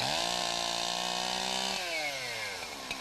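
A chainsaw drones loudly and steadily, its engine pitch holding high then dropping as it eases off the throttle.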